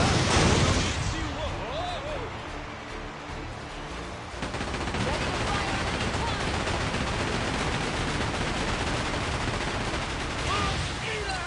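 Ship cannons fire in the pirate video game Like A Dragon Pirate Yakuza: a loud, dense, continuous barrage of booming shots rolls on for many seconds, with game voices mixed in.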